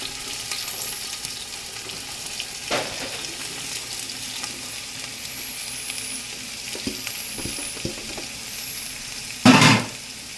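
Chopped onion pieces frying in oil in a pan for chicken curry, a steady low sizzle with occasional stirring clicks and a brief louder burst of sizzle near the end.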